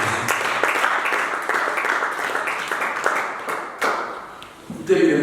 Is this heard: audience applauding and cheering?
yes